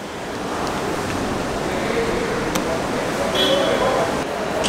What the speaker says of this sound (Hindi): बहुत ज़्यादा हवा चल रहा है बाहर